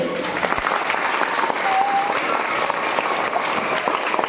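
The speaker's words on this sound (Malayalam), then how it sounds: "നിങ്ങൾ വലിയ കയ്യടി കൊടുക്ക്" Steady applause from an audience after a child's reading day speech, continuous even clapping from a gathered crowd in a hall, with no speech.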